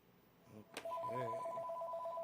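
A telephone rings with a steady two-tone electronic trill, starting just after a sharp click and a brief murmur of voice; moderately close but fairly quiet in a still room.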